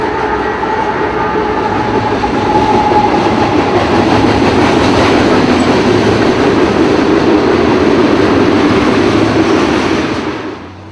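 A diesel freight train with three six-axle locomotives rumbles past close by, a loud steady roar of wheels and engine with rhythmic clatter, fading slightly at the end.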